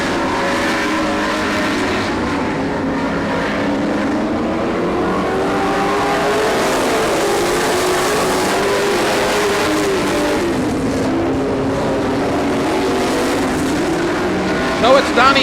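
Several race cars howl around a short track, engines droning and revving steadily at close range for the whole stretch, with a race commentator talking over the continuous roar.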